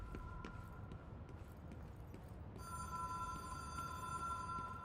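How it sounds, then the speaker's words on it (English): Telephone ringing in the Control video game, a steady electronic bell ring that sets in midway and grows slightly louder over soft background noise. "Alright, let's go answer this phone."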